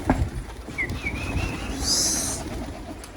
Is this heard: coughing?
no